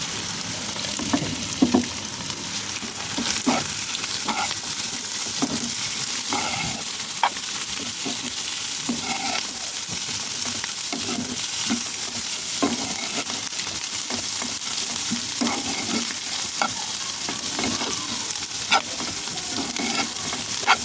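Capsicum frying and being stirred in a pan for egg and winter-vegetable noodles. A continuous close sizzle runs throughout, with repeated scraping and clinking stirs and no talk.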